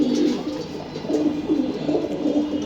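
Soft, low pigeon cooing repeats in steady rolling phrases, close by, with a faint rustle in the background and no talking.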